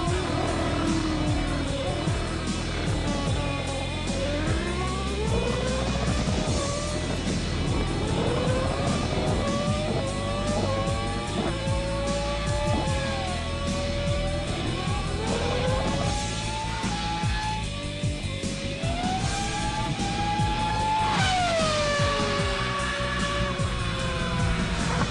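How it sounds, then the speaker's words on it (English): A Formula 1 car, a superbike and a powerboat race in a head-to-head contest, with loud, continuous high-revving engines whose pitch climbs and falls repeatedly through gear changes as they accelerate hard. "as soon as Button could use full power, he streaked away from a wheeling Rutter"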